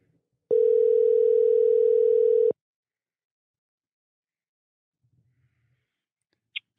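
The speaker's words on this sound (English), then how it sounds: "let's get the doc on the phone here." Steady telephone dial tone holding for about two seconds as a call is placed, loud and clean against silence, followed by a faint click and near quiet.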